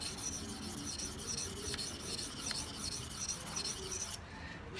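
A knife blade rubbed back and forth across a coarse whetstone, a steady close gritty scraping that runs continuously and then drops off abruptly near the end.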